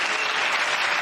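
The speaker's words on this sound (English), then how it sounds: "It's interesting to hear exactly half the audience applaud" Part of a studio audience at a comedy panel show applauds, a steady, dense burst of clapping filling the whole moment without any speech.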